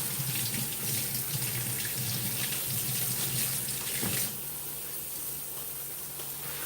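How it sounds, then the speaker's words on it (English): A kitchen tap runs steadily while hands are washed under it, a close, even rush of water that drops to a quieter flow near the end, with no talking. "Let me wash my hands off."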